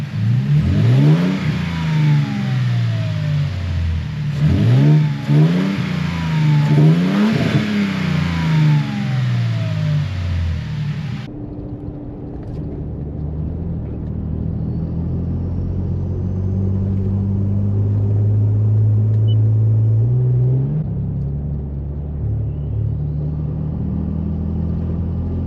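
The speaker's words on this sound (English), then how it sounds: "Let's reconnect the battery, turn this thing on, and see if we notice any kind of noise difference." A 2022 Toyota Tundra TRD Pro engine fitted with aFe turbo inlet pipes runs loud and close, revving in repeated rising and falling surges before settling into a steady deep idle rumble.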